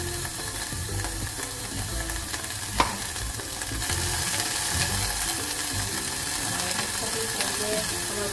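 Tough onion-leaf stalks sautéing briefly in a hot pan: a broad, continuous hiss that grows a little louder partway through, with a single sharp click and faint ratcheting rattles.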